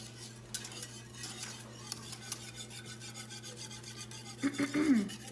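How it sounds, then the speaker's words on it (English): Spearmint drops being stirred into bee sugar water, a soft scraping, rasping rub of spoon against container, quiet and steady at first, turning louder and busier near the end. "And then we're just gonna mix that together"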